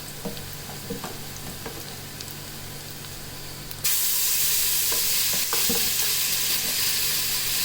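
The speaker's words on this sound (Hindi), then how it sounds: "एक चम्मच भर के इसको अच्छे से हम भूनेंगे" Ginger garlic paste frying in a hot pan, a steady sizzle that jumps sharply louder about halfway through as the paste hits the oil, with occasional scraping stirs.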